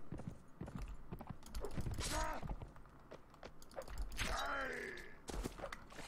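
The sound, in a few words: horse hooves clip-clopping in video game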